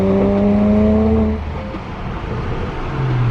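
Stock BMW 335i with the N54 engine, running with misfires, makes an anti-lag-like rumble: a loud steady droning engine tone that drops after a second and a half into uneven popping and burbling, then rises again.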